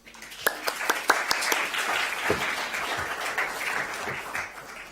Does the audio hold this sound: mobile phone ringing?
no